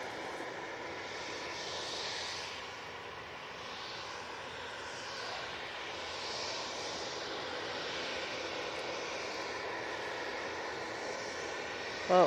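A Loganair ATR 72 turboprop departs Manchester Airport, its propeller and engine drone heard at a distance as a steady, fairly faint hum that swells gently and then fades.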